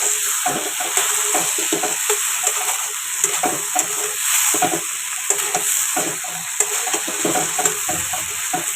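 Spices being sautéed in a little oil in a pan, a constant close sizzle with repeated scraping stir strokes in an uneven rhythm throughout.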